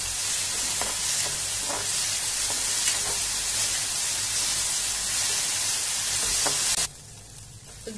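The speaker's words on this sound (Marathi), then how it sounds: "अगदी 2 मिनिट आपल्याला व्यवस्थित ह्याला हलवून घ्यायचं." Chili powder, salt and turmeric are stirred in a frying pan over a loud, steady sizzle with faint scraping strokes. Near the end the sizzle drops off sharply to near quiet.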